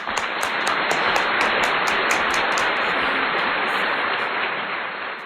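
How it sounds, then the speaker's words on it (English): Dense, steady audience applause at a cooking showdown, crowding out other sound for about five seconds before easing slightly at the end. "Give him a round of applause."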